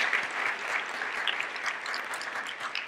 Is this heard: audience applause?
yes